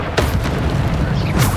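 Explosive blasts from the Bombarda spell in Hogwarts Legacy: two booming bursts, one near the start and one near the end, over a continuous rumbling combat din.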